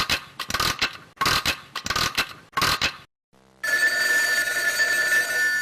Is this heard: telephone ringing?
yes